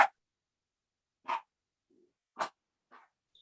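A dog barks a few short, sharp times at spaced intervals, moderately close and alone in otherwise quiet surroundings, the last bark softer than the others.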